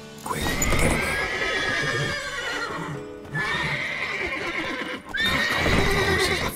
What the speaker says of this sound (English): Gotta call off the horses before they wake the guards.